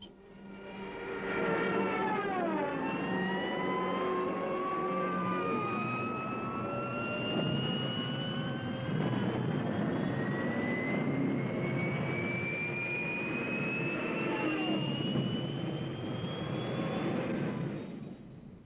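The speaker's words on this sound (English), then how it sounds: "Rommel sends in Stuka dive bombers to blast the defenders from their emplacements" Aircraft engines roar loudly and continuously as WWII Stuka dive bombers dive to attack ground defenders in the desert, with a rising pitch sweeping upward through most of the run and no voices.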